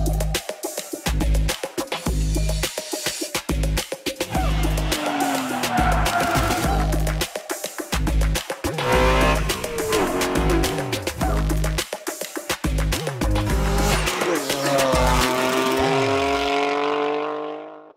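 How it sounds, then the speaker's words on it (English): A BMW G80 M3 with an aftermarket Fi valvetronic exhaust revs hard, blipping and roaring in repeated bursts with short gaps, close by. "we're putting on an FI exhaust to bring out the true sporty nature of this M3"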